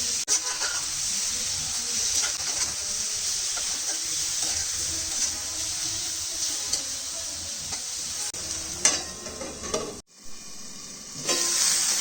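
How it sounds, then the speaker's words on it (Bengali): Marinated fish frying in hot oil with chopped onion scattered over it, a steady close sizzle and crackle running throughout with brief stirring clatter near the end and a short pause. "তেল গরম হলে এর মধ্যে দিয়ে দিলাম মেখে রাখা মাছগুলো"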